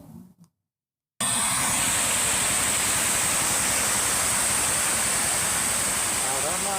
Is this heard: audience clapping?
no